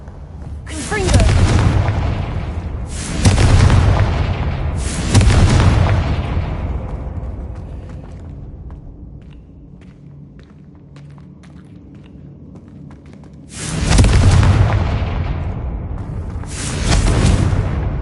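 Fire spell blasts go off in a magic action game, heavy booming explosions in a quick triple burst, then a quieter stretch of low rumble and a few small ticks before two more loud blasts.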